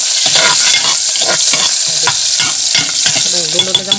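Meat and spices sauté in a hot pan: a loud, continuous sizzle and fry, broken by repeated scraping and stirring strokes, with no talking.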